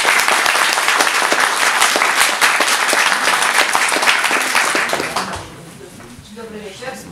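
A school audience at a Halloween event applauds loudly to greet the teachers, with sustained dense clapping that fades after several seconds, and a voice follows.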